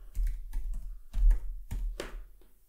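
Typing on a computer keyboard while entering text into Umbraco CMS, a quick uneven burst of close, crisp key clicks with no talking.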